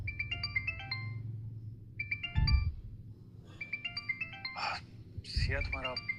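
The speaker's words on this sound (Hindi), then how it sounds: "तुम्हारा फोन बज रहा है।" Mobile phone ringtone playing a bright electronic melody in repeated bursts, heard at moderate distance while people talk over it.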